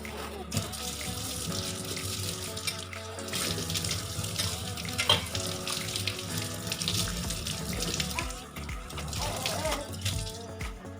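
Running tap water splashing into a mixer grinder jar as it is rinsed, a continuous gushing flow with sloshing changes, close and steady.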